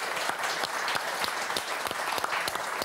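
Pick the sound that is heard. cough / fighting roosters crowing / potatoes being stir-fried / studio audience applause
studio audience applause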